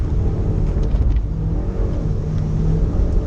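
A Mazda MX5 engine drones loud and steady from inside the car as it climbs the Wiscombe Park hillclimb course, rumbling with wind and road noise through a gear change.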